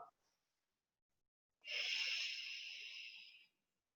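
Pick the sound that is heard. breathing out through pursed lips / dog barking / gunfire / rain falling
breathing out through pursed lips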